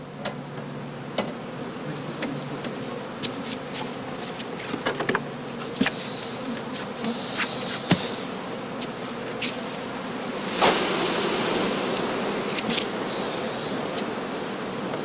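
Honey bees buzz steadily in a dense swarm around skep hives, with individual insects droning past close by over a constant outdoor hum.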